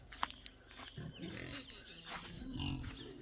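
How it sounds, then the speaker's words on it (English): Pigs in a pig pen on an off-grid homestead in Puna, Hawaii, give a few low grunts and snorts, close by and moderately loud, with occasional squeals over continuous rustling. "Here's my pigs."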